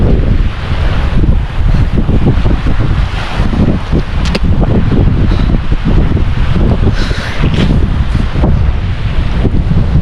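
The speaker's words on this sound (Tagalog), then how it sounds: "Humangin na." Strong coastal wind buffets the microphone in a constant loud roar, with surf and waves washing underneath throughout.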